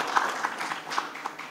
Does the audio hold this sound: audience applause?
yes